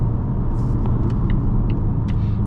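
A 2024 Volvo S60 Recharge accelerating in power mode gives a steady, loud low engine and road rumble from inside the cabin, constant throughout with a few faint higher clicks on top and no talk.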